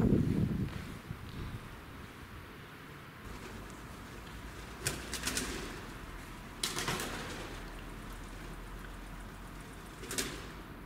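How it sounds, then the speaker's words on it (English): Pigeons up in the rafters of a building at night, with a few sharp bursts of wing flapping breaking out over a steady low background hum and no talking. "as you can tell from that noise, some pigeons are up on the rafters which have just flown in."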